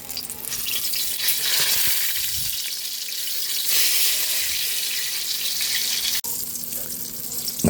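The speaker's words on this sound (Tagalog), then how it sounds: "Nakaluto na po tayo ng ating pritong talong." Eggplant frying in a pan gives a loud, dense, continuous sizzle close by, steady throughout with a brief dip near the end and no talking.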